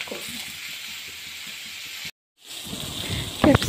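Capsicum frying in oil in a pan, a steady close sizzle with faint clinks, cut by a brief silent gap and then resuming louder with a few sharper crackles.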